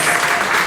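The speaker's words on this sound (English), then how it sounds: "Edie's clapping." A crowd claps in a brief, continuous burst, loud and close, with no break in the sound.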